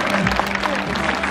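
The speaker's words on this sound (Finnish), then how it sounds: "Aplodit siellä yleisöstä." Spectators applauding at the finish of a Red Bull 400 race in Lahti, a brief stretch of distant crowd clapping blended with cheering voices and an announcer talking over it.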